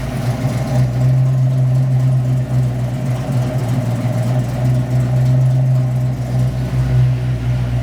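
A Foxbody Mustang with a GT40 setup and B cam idles at about 1,000 RPM, a loud, steady, close-up low rumble with a slightly lopey, uneven pulse and no talking.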